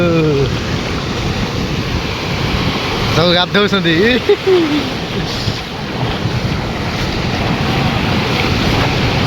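Sea waves at Puri beach wash in with steady surf and heavy wind buffeting the microphone, while people talk briefly over the water noise.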